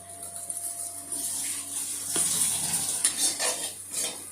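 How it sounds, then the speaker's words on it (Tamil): Fried rice with egg and chicken being stirred in a pan, with a steady metal utensil scraping and clinking against the pan under a faint sizzle, growing busier toward the end. "கொஞ்சம் மிக்ஸ் பண்ணி விட்டு கொஞ்சம் ஃப்ளேவர்ஸ்லாம் உள்ள இறக்கட்டும்."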